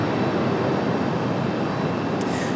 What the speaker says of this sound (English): Somebody's got a really loud APU.